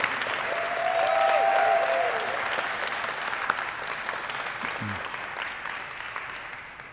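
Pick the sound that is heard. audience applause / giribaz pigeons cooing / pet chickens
audience applause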